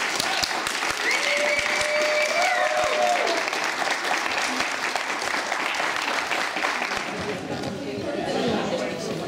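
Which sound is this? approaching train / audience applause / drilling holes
audience applause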